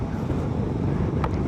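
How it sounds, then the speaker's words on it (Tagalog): Strong wind buffets the microphone along the Marilaque Highway near Real, Quezon in the Philippines, a steady low rumbling roar that stays loud throughout with a brief hiss near the end. "Lumakas na ditong hangin."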